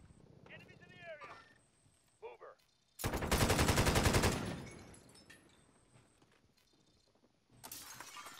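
Call of Duty: Modern Warfare gunfire erupts as one loud, sustained burst of rapid automatic shots, followed later by another short burst, with someone talking in the quieter stretches around it.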